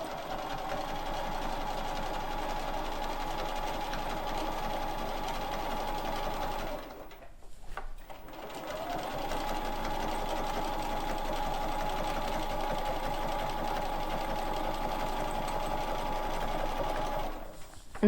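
A sewing machine stitches quilt-as-you-go lines in a steady, close whirring run. The sound pauses briefly partway through, then resumes and stops near the end.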